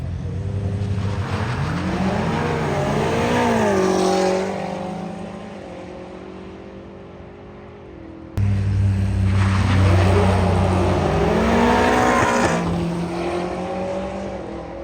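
A fast drag racing car at a 2025 drag racing event gives two loud bursts of engine noise, each revving hard and rising in pitch as it accelerates. A brief lull separates them, and no voices are heard.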